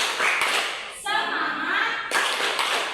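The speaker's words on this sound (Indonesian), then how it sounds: "Tepuk semangat." Group of people clapping in unison during a classroom cheer, broad bursts of claps in a steady rhythm with a short pause, voices chanting along around them.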